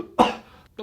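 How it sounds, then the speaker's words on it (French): A single short, dry cough sounds close and clear, followed by a fainter throat sound. "j'ai qu'une petite toux, c'est rien"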